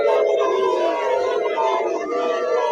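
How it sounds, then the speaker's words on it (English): A large crowd of Liberians booing an official, heard through a played recording as a sustained, loud, droning chorus of voices that rises and holds without a break. "They are booing him."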